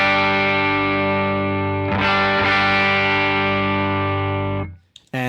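An electric guitar chord rings through a Jackson Audio Bloom boost pedal, loud and sustained with a distorted, harmonically rich tone, a second strum midway, then cut off near the end.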